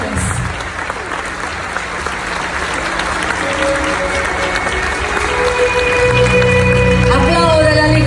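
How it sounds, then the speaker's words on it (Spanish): A church congregation at a testimony service in Phoenix claps loudly and continuously, dense sustained applause with crowd noise and a voice speaking over it. "Fuerte, fuerte el aplauso."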